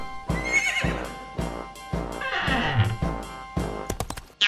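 A cartoon horse whinnies repeatedly over rhythmic clip-clop hoof beats, loud and close, with a bright jingling flourish at the end.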